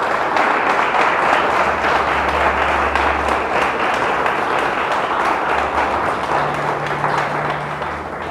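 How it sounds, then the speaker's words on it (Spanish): A church congregation applauds during a Spanish-language sermon, giving steady, dense clapping that stays loud for the full length with no talk over it. "Dele un fuerte aplauso a Él."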